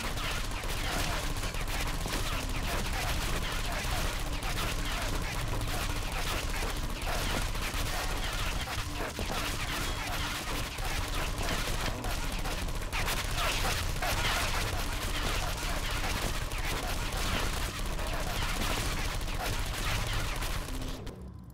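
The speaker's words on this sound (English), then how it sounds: "Oh, there's a turret." A turret in the puzzle game Portal 2 fires in a sustained, dense rattle of automatic gunfire with crashing impacts, loud and unbroken for about twenty seconds, with some talk underneath.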